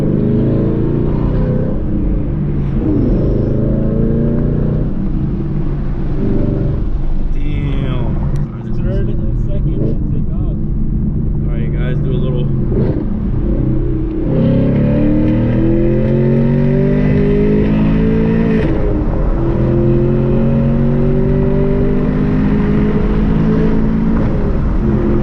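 A 500+ hp Chevrolet Camaro SS engine roars loudly from inside the car, revving up through rising sweeps with a quick dip at each gear shift, while people talk over it.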